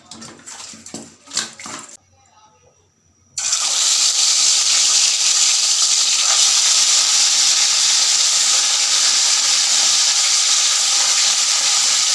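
Fish sizzling in hot oil in a home kitchen, local Nepali fish frying with a steady, loud, hissing crackle that begins abruptly after a few seconds of handling noise and a short silence, then continues unbroken.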